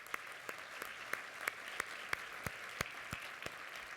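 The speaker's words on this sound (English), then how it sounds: "I think they deserve another round of applause." An audience at an awards breakfast claps in a rhythmic, fairly sparse round of applause, with distinct individual claps standing out over a steady patter, moderately distant.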